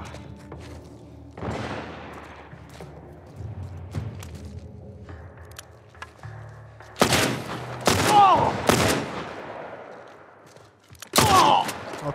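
Gunfire in the PS5 game The Last of Us Part I: several loud, sharp shots in a cluster late on, following quieter thumps and movement sounds with a low background hum.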